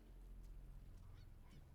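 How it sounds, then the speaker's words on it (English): Birds flap and honk after being disturbed in Sniper Elite 5, a faint goose-like flurry of wing noise and calls over low ambient game rumble. "Why'd you gotta get close to the stupid birds?"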